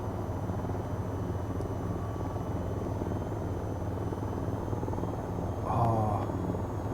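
An AH-94 attack helicopter in the VTOL VR flight game flies with a steady, loud rotor thrum and turbine whine, continuous and close, swelling briefly near the end.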